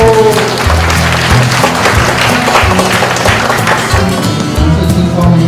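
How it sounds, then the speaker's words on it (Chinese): Children clapping together to welcome a craftsman at a community traditional crafts event, a loud, sustained patter of applause over a low steady hum. "小朋友借你们的双手掌声欢迎一下"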